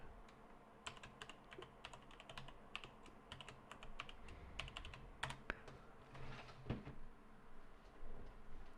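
Quiet clicking of typing on a computer keyboard, irregular bursts of keystrokes with short pauses between them and a few louder taps, close by with no voices.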